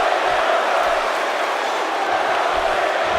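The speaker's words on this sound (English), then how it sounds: "Let's go Ziggler chants ringing out through this arena here in Los Angeles" A large arena crowd in Los Angeles roars steadily for Dolph Ziggler in WWE 2K17, a dense, continuous wash of cheering with no clear breaks and no distinct speech.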